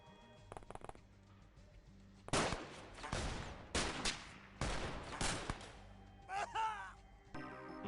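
Gunfire in the XCOM video game, several loud rattling bursts of rifle fire in quick succession, separated by short pauses, with a whistling effect and brief in-game sounds between volleys.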